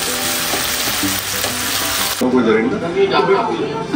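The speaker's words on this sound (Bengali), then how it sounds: "এইদিকে মশলাটা কষা হতে থাক আর ওদিকে মাংসটাও ভাজা হতে থাক" Spice paste and chicken fry in a pan with a loud, close sizzle and crackle, stirred at intervals; the hiss softens partway through as the frying settles.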